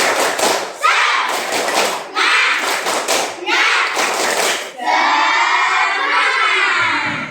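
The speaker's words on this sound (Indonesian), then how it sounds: "Sekali lagi bersemangat, tepuk semangat." A room of students performs the tepuk semangat clapping chant, with rhythmic bursts of loud group claps and shouted chanting, ending in a long, sustained collective cheer.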